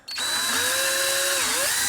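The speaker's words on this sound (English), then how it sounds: "make a bomb sight, crosshair, whatever you want to call it, drill it out" A power drill with a 5mm bit bores a hole into a plastic Xbox One controller part, a steady high whine that spins up sharply and holds close and loud, dipping briefly near the end.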